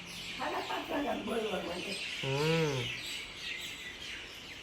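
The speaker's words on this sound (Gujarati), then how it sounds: "પક્ષીઓ કેવા કિલોલ કરે છે" Birds call on a morning at a camp, with scattered chirps followed by a louder warbling call near the middle over a soft background hiss.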